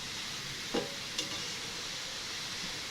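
A spoon stirs carrots in a pot while making gajar halwa: a quiet continuous hiss broken by two brief knocks of the spoon against the pot.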